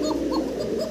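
Fancy pigeons, an active pair, coo in a short, soft, steady burble of low throaty notes that fills the whole moment without pause.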